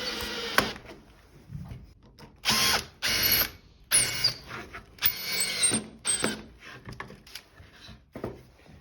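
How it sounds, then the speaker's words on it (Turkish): A power drill drives two screws into wood for a sander jig, with several short whirring bursts and ratcheting clicks between pauses, close up and without talk. "Şöyle iki vida atacağım."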